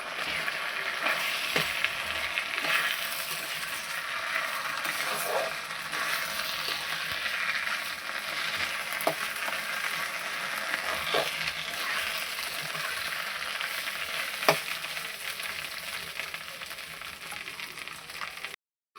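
Potatoes for aloo dum fry in white cooking oil in a pan, giving a steady, close sizzle with a few soft clicks from stirring, heard alone for the whole stretch.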